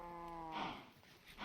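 A Minecraft cow gives a single drawn-out moo, a tonal, harmonic lowing heard close and clear, followed by soft game ambience.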